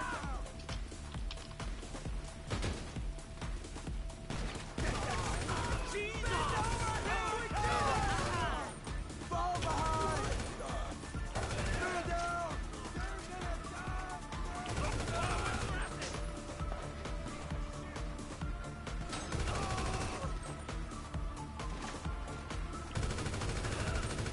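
An enemy shooting in GTA V lets off steady rapid gunfire, bursts of shots repeating through the whole stretch at moderate loudness while other game sounds and a voice run underneath.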